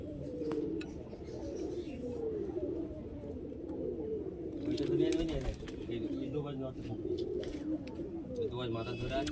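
Madrasi pigeons coo in low, throaty, rolling calls that repeat close by, with quiet rustling and occasional clicks around them and someone talking intermittently.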